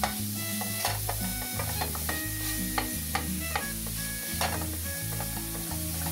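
Sausage sizzles steadily in a frying pan while a utensil stirs and scrapes it at a regular pace, the close hiss constant under the repeated rhythmic scraping strokes.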